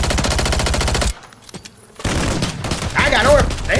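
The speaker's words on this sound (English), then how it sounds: "Bullets is flying, and they ain't coming for me." Loud sustained machine-gun fire in Call of Duty MW3 multiplayer rattles for about a second, drops to near quiet, then gunfire and action sounds return while a player talks over them.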